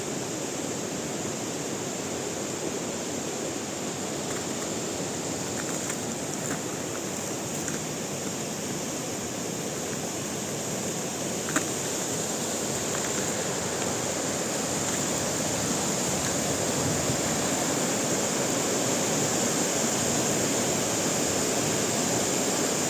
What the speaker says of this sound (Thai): น้ำไหลลงมาจากบนภูเขาจ้ะ